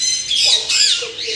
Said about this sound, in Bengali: প্রথমেই গেট দিয়ে ঢুকতেই দেখতে পাবেন এরকম কত পাখি, টিয়া পাখি, আরও অনেক রকম পাখি রয়েছে